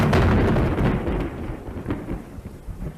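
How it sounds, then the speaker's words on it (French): Thunder from another lightning strike in a stage comedy, a loud rumble at the start that slowly decays over a hiss of rain. "L'éclair suivant est entièrement vert."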